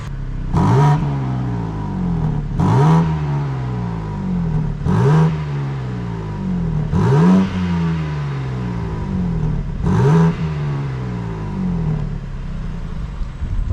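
A BMW M4 Competition with its stock exhaust revs sharply five times in an even rhythm, each blip rising fast and then settling back to a rumbling idle, close by and loud.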